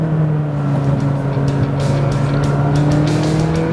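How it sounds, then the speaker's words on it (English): A 2016 McLaren 570S engine roars loudly and steadily from inside the car, its tone shifting slightly as it moves through gears, with no talk over it. "Downshift, downshift, downshift. Upshift, upshift, upshift."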